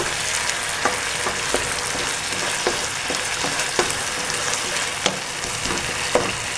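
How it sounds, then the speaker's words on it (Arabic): Fava beans and a garlic clove fry in a hot pan of oil for Egyptian ful, a steady bright sizzle broken by sharp clicks and scrapes of stirring roughly every second, with no voices. "هننزل بفص ثوم بلدي ونقلب"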